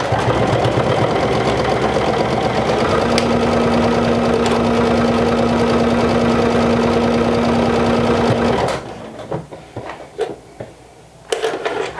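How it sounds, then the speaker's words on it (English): A sewing machine stitches around a pocket on a vintage jumper, a fast rhythmic mechanical whir running continuously for about eight seconds before stopping abruptly, followed by quiet handling clicks and fabric rustle. "So let me turn you over to the sewing machine."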